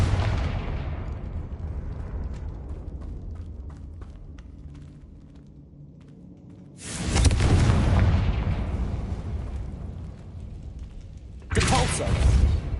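A Confringo fire spell blasts in Hogwarts Legacy, with two loud explosive bursts separated by a few seconds, each a broad roaring boom over a rumbling, fading game soundscape.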